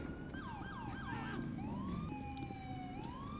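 GTA 5 police car siren sounding in a street chase, quick yelping sweeps giving way to a steadier wail, loud and close with no talking.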